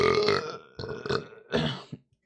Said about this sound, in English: And back on burping again